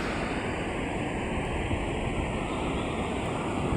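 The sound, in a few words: large ocean waves breaking on a beach in Palawan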